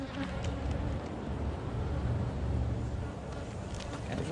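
Honey bees hum steadily at an opened hive during queen checks and splitting, a dense continuous drone filling the scene, with a person talking intermittently over it.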